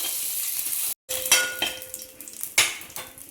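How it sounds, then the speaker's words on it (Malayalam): Whole spices—cardamom, cloves, peppercorns and dried red chillies—frying and sizzling in hot oil in a pan while being stirred, with a brief drop-out, then close scraping strokes and clinks of a spoon against the pan over steady crackle. "3 ഏലക്കായ, 4 ഗ്രാമ്പു, കുരുമുളക്, 4 വറ്റൽ മുളക് ഇളക്കി കൊടുക്കാം."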